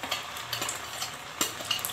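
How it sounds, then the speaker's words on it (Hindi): Poppy seed paste frying in ghee while being stirred, a soft, steady sizzle close by with repeated scrapes and clinks of a spoon against the pan. "जब तक घी में पोस्ता डालने के यानी खसखस के पेस्ट को डालने के बाद जब तक लाइट ब्राउन हो जाए तब तक हमें इसे भूनना है"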